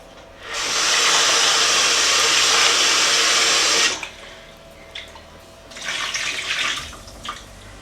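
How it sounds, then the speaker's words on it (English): Strawberries rinsed under a running tap: a loud, steady rush of water for about three and a half seconds, then quiet with a few drips and a shorter, uneven burst of splashing near the end. "I'm going to give it another rinse before I add in the remaining ingredients."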